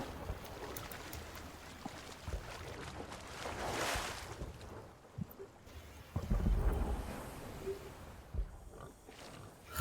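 A sailing ship in the Sea of Thieves video game, moving under wind, gives a steady rush of wind and water that swells and ebbs over about ten seconds, with scattered small knocks and no talk.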